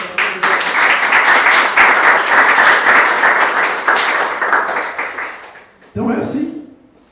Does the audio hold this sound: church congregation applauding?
yes